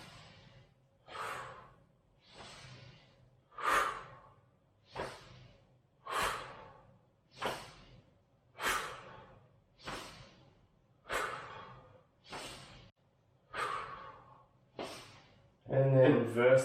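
Steady, gentle exhalations during a spine-rotation mobility exercise, about a dozen soft whooshing breaths out in an even rhythm, each around a second long, close to the mic.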